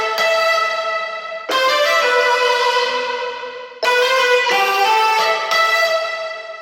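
A layered synth lead for a remake of a song, soloed, plays bright sustained chords in a few phrases with sharp attacks and slow decays, loud and alone.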